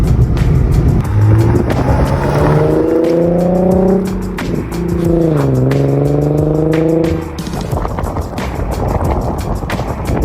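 A 2018 Nissan 370Z heard from inside during a ride, its engine pulling up through rising pitch with quick gear shifts between pulls, loud and close, with road and wind noise throughout.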